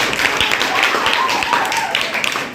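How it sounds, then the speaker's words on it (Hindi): Children in a classroom clap their hands together in praise during a lesson, steady close clapping running throughout under a teacher's voice. "ताली बजा दो इसके लिए"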